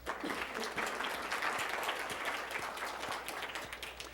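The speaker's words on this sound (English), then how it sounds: "Give them a round of applause for the conference." A conference audience applauding, a steady wash of many hands clapping at moderate distance, sustained evenly throughout.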